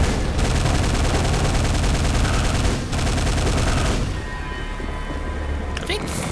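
Rapid, continuous mechanical rattle of a super nail gun firing at fiends in the video game Quake, loud and dense for about four seconds before thinning out into softer game noise.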